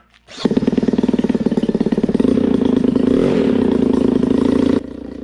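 A small paramotor engine sputters to life and then revs hard, buzzing loudly and steadily before cutting back sharply near the end.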